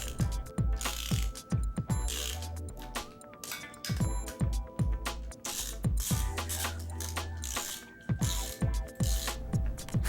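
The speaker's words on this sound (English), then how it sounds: "Snug the hub body nuts in a progressively tighter crisscross pattern using a 13 mm" A ratchet with a 13 mm socket tightens the hub body nuts on a Toyota 4x4 solid front axle during a locking hub install. Loud, close bursts of rapid clicking repeat between short pauses, with no talking.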